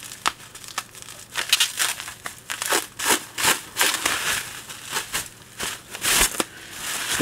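Plastic wrapping being peeled and pulled off a MacBook keyboard crackles and crinkles close up in rapid, uneven bursts that continue steadily throughout.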